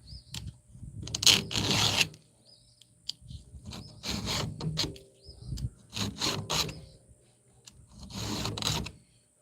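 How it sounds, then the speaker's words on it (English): A hand file rasps across a chainsaw chain to sharpen it, several separate bursts of close, gritty strokes with pauses in between. "When I sharpen a chainsaw"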